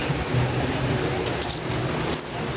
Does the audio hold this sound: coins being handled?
yes